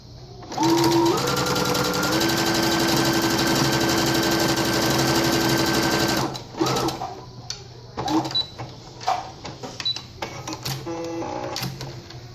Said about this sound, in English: I'm gonna stitch it